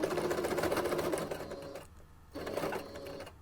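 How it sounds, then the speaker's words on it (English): A sewing machine stitching a fabric kitchen scarf over a folded seam, fast rapid mechanical chatter that pauses briefly before resuming, close and clear with no talking. "Be careful as you sew over the fold."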